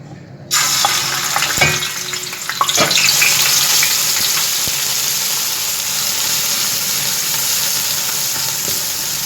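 Grated onion dropped into hot mustard oil bursts into a loud, steady sizzle that holds close and strong, with a few clinks from stirring near the start.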